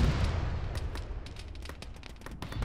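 A rocket strikes a BTR armored vehicle in the ArmA military video game: a heavy rumbling blast opens and fades, followed by scattered sharp cracks of gunfire at a distance.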